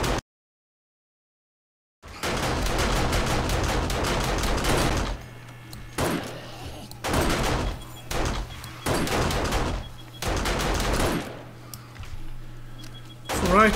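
Automated guns firing on horde night in 7 Days To Die, Darkness Falls, loud bursts of rapid gunfire in repeated volleys separated by short pauses, after a brief silence at the start.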